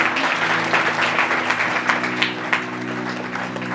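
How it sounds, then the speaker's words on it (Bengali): Church congregation applauds loudly and steadily, a dense wash of clapping from many hands filling the room throughout. "জোরে করতালি দিই সবাই"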